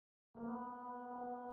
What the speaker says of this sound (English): I just grab the ah I recorded, ah, pitch shift it,